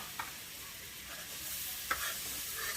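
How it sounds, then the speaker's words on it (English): Flour being stirred into a stick of melted butter in a pot for a roux, a soft steady sizzle with light scraping strokes of the spoon and a couple of small knocks. "I'm making a roux. So I am just going to make sure I brown this flour into this roux."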